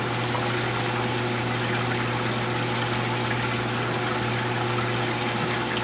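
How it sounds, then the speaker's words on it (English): Water barely trickling into the overflow of a home aquarium, a soft steady dribble over a constant low pump hum with no voices. "Barely trickling to the overflow"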